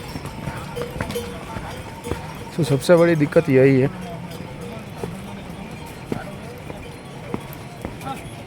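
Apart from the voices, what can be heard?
horses walking on the Kedarnath trekking route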